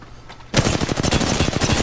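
A loud burst of automatic gunfire in Apex Legends erupts suddenly after a quiet moment, then keeps going in rapid, evenly spaced shots up close.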